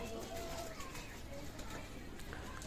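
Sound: pigeons cooing

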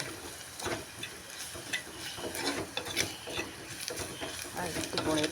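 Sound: spoon stirring squid roast frying in pan

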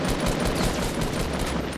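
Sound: shotgun shot in Fortnite video game

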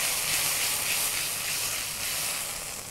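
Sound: sauteing chili paste for chicken lollipop

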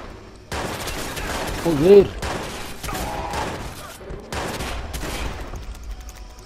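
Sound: gunfire in video game Watch Dogs

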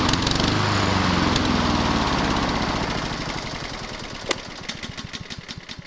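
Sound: lawn mower engine running until out of gas

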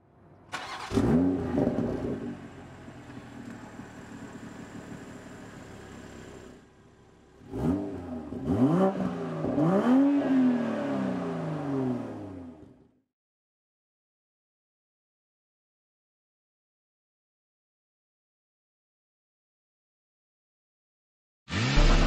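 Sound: BMW 4 Series Gran Coupe M440i xDrive inline-six driving

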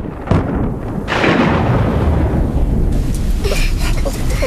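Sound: thunder during a storm in a cartoon

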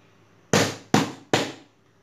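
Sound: three hand slaps

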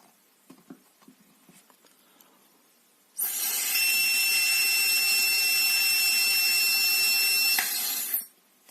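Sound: blowing into AlcoFor-105 breathalyzer during analysis

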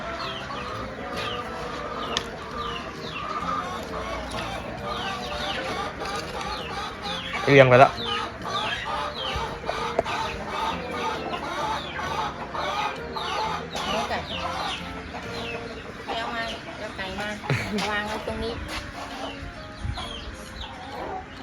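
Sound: chickens clucking

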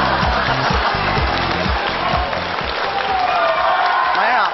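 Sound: audience applause

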